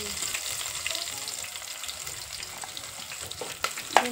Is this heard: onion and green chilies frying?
yes